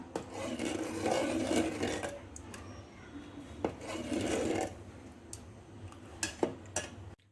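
A utensil stirring thick finger millet porridge in a pot: repeated scraping and rubbing strokes with soft wet churning, broken by a few sharp clinks of the utensil against the pot's side, close and steady.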